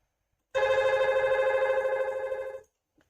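A simulated Cisco IP phone rings in Packet Tracer, a loud, rapid warbling electronic trill that lasts about two seconds after a short silence and then cuts off.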